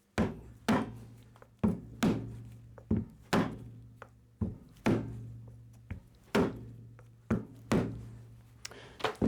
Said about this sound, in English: Then we can continue on hitting the axle through.